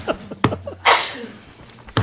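A single sharp, breathy sneeze bursts out in a planning board meeting room at moderate distance, surrounded by faint murmurs and room noise.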